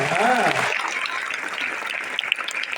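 A live audience at a speech event in Coimbatore applauds, a broad wash of clapping that is loudest at the start and then holds steady as sustained applause, with a voice briefly audible at the outset.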